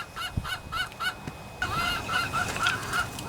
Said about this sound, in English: The chickens are pretty anxious to come out.